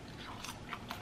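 Crisp crunchy bites into seasoned Cajun fries, a few close sharp crunches spaced through a short moment, with a steady low background hum and no talking.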